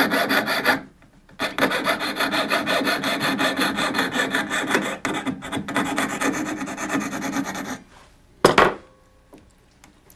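Sawing through a metal jewelry part, cutting off an old soldered tongue near a back plate: loud, steady rasping strokes that run for about seven seconds, stop, then return in a brief final burst, with no talk.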